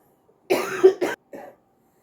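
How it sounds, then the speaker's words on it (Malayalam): A person coughs nearby, two harsh bursts in quick succession followed by a softer third cough, with silence around them. "സോറി, ചുമ വന്നു കേട്ടോ."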